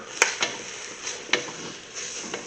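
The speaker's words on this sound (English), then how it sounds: "Now we're going to give that a stir." Cooked beef, onion and vegetables being stirred together in a pan make soft scraping clicks of a spoon over a light sizzle, several irregular strokes close up.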